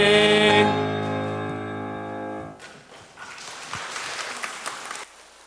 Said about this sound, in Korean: 다시 한번 찬양팀을 위해 박수 부탁드리겠습니다